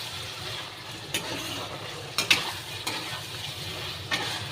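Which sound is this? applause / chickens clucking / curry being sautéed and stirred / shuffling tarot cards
curry being sautéed and stirred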